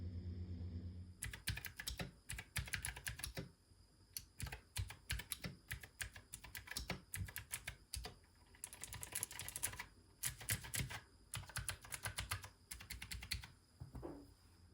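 Rapid typing on a mechanical keyboard fitted with Kii boom switches and fresh keycaps, crisp clacking keystrokes in quick bursts separated by short pauses, recorded up close in a quiet room with no talking.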